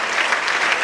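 Loud, dense applause from a church congregation during a sermon, a continuous, even wash of many hands clapping.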